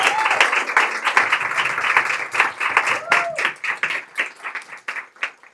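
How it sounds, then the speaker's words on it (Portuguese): A reading-club audience breaks into a round of applause, dense overlapping claps up close that thin out toward the end, with a voice or two murmuring underneath. "Uma salva de palmas."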